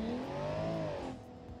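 Car engine in the driving game BeamNG.drive, a steady motor tone whose pitch climbs and then eases off as the car drives along, loud and close, followed by a lower, rougher engine rumble.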